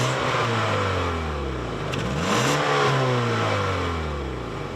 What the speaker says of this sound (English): My tester is the 2-liter turbocharged 4-cylinder, making 250 horsepower and 280 pound-feet of torque.